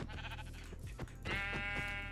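Sheep bleating in the Minecraft video game, with two wavering baa calls in a row, the second louder and more sustained, set over a steady background of game sounds.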